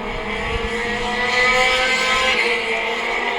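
A stock rod race car engine roars steadily at Knockhill trioval, a loud, continuous droning rasp that swells slightly midway as the car runs past.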